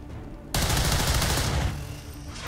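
Sustained burst of video game gunfire from XCOM 2 as a soldier shoots an enemy, loud and dense for about a second before tailing into lingering reverberant noise; no talking.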